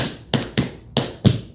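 Tap shoes striking a hard floor in a shuffle ball change, four crisp taps in quick succession, close and clear with no talking.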